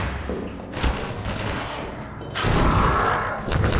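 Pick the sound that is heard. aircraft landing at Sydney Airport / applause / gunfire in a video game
gunfire in a video game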